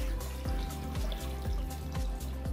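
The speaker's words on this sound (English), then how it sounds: "you can add and fill the pot with about 20 cups of filtered water." Filtered water runs into a large pot for chicken broth, a close, continuous splashing stream with a gurgling, shifting tone as the pot fills.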